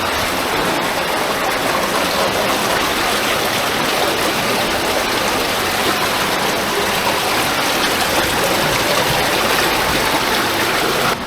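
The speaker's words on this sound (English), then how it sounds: "Bubbles." Steady, dense water noise of a stream or bubbling flow inside an underground cave with dirt on the ceiling, loud and continuous throughout with no voices.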